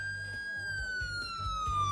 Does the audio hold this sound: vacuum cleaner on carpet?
no